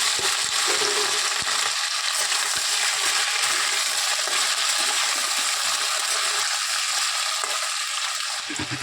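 Potatoes frying in hot oil tempered with five-spice and dried red chilli, a steady loud sizzle with occasional stirring scrapes throughout, no talk.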